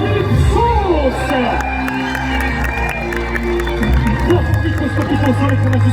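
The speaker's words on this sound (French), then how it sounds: "Acclamons le nom de Calypsos." A crowd at a diving competition cheers for Calypsos, loud sustained shouting and cheering mixed with a voice speaking over the din.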